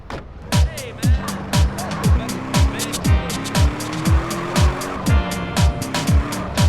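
A car in GTA San Andreas drives hard with tire squeal, and sharp impacts repeat about twice a second over a continuous engine whine.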